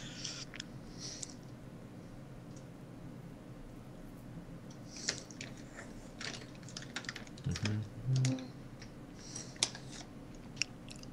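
Computer keyboard typing during a game of prop hunt, irregular bursts of quiet key clicks and taps spread across the stretch, with a couple of louder thumps near the middle.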